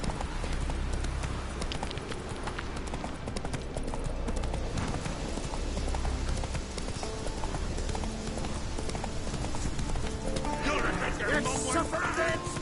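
The horse Roach gallops in The Witcher 3, its hooves beating a steady, rapid clip-clop throughout over a dense game soundscape with faint voices.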